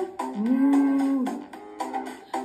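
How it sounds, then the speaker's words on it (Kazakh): A cow gives one long, low moo, followed by a couple of short, quieter lowing sounds. "Сиыр мөңірейді"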